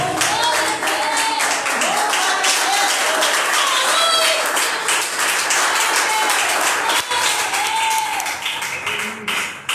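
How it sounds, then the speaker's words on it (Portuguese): Church congregation bursts into loud, sustained applause for the word of God, with shouts and cheering voices rising over the clapping before it begins to taper near the end. "Uma salva de palmas para a palavra de Deus"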